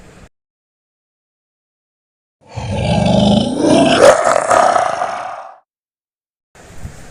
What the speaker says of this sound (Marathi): वाघ महाराजांवर गुरगुरायला लागला।